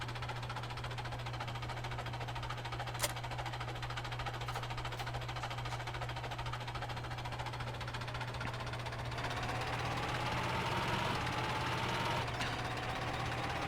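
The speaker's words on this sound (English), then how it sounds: "So realistically, could this tractor pull this?" Tractor engine in the Farming Simulator 17 video game, a steady low droning hum with a constant mechanical tone that rises slightly in pitch toward the end, running alone with no talk.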